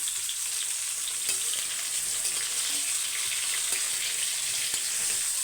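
Onions and chunks of yellow pumpkin sauté in a pan, giving a steady, close, even hiss of frying with faint stirring scrapes throughout.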